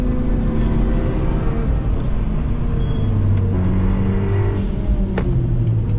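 A race car on a track roars by close and loud, its engine note droning steadily and shifting pitch as it passes, with no voices over it.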